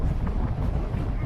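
Strong gale-force wind buffets the microphone at Boranup Beach, a continuous loud low roar with steady gusting and no pauses.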